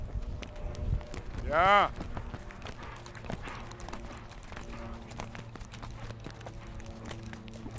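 A horse trots in a riding session over show-jumping obstacles, with steady soft hoofbeats throughout, a brief whinny-like rise early on, and a coach speaking briefly.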